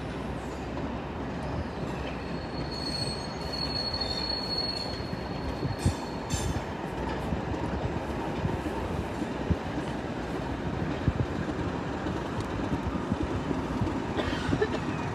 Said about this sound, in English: 9708 leading the train back out.